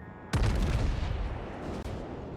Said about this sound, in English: So, shots on the Campbelltown.